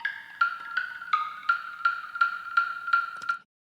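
Sampled jar hits with added reverb in a techno track: about nine evenly spaced, ringing tonal knocks in a steady rhythm, fairly quiet and bright, each decaying into a reverb tail before the next, then silence.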